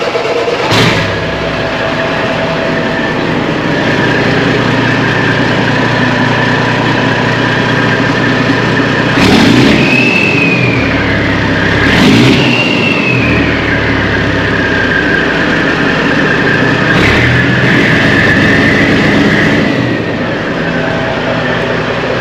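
A 2007 Kenworth T600 truck's diesel engine running steadily, a loud continuous low rumble with a constant mechanical drone and a few brief louder surges throughout.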